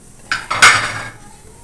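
A metal pot lid clatters back onto a pot of mung bean stew with jackfruit, two quick clanks followed by a short ringing scrape, close and alone.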